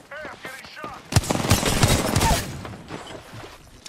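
Gunfire in a shooter video game, a short dense burst of rapid shots over about a second, loud and close, with game voice chatter just before it and a quieter tail after.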